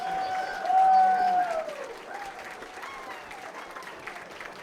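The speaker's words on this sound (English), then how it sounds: "one final round of applause for our winners of poLANd.tf 2026, MANDEM" A crowd at a Team Fortress 2 LAN tournament grand final in Poland applauds the winning team in a steady wash of clapping, with a whooping voice and a few shouts over it.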